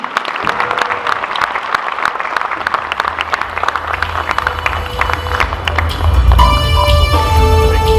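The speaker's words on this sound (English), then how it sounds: "Everyone, please give a big round of applause for Mihir and Janki." Wedding guests applaud the newlyweds with steady, dense clapping that swells louder toward the end as music joins in.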